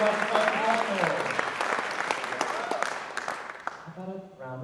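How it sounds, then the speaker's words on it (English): A college convocation audience applauds new classified staff, a dense wash of clapping that holds steady and then thins out, with a voice starting to speak as it fades. "How about a round of applause for all of our new classified professionals?"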